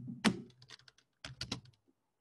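Numbers are typed on a computer keyboard into a text file, two short bursts of close, crisp key clicks separated by a brief pause.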